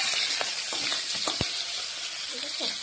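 Small jel fish hit hot oil in a pan with a steady loud sizzle, a few sharp crackles and pops, no talking.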